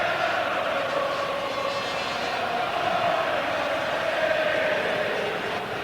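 Football crowd in good voice cheering its team on at a 1993 match, a dense, steady roar of many voices heard from a distance, continuous throughout without breaks.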